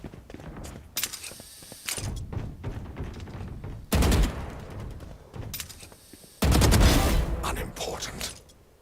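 Bursts of video game gunfire come in several clusters, the loudest near the end, with sharp rapid shots over a busy background of in-game sound.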